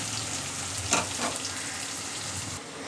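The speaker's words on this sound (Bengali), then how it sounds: "এবার ভাজা ভাজা করে নেবে লাল লাল করে।" Chopped onions fry in mustard oil with a soft, continuous sizzle and a couple of brief stirring clatters, fairly faint and heard alone.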